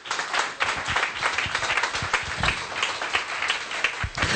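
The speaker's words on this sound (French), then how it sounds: "Applaudissez." A church congregation applauds steadily at a French-language service, dense, continuous clapping from many hands filling the room, with a brief voice rising under it.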